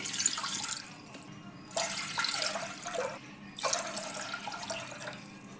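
Three bowls of water go into a pressure cooker one after another for wheat khichdi, each pour a soft splashing rush of a second or so with short pauses between, close and quiet.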